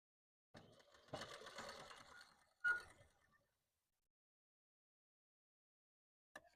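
An electric sewing machine stitches a katori blouse in a short buzzing run of about two seconds, then a brief second burst, followed by quiet and a tiny click at the end.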